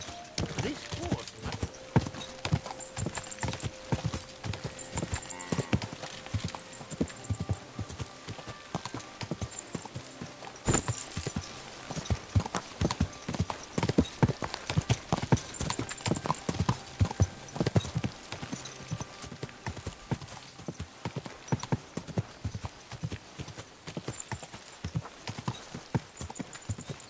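Rhythmic hoofbeats clip-clop quickly and steadily throughout, a horse galloping close by in the video game Kingdom Come: Deliverance II, with occasional tonal game sounds in the background.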